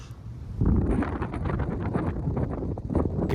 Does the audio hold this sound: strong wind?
yes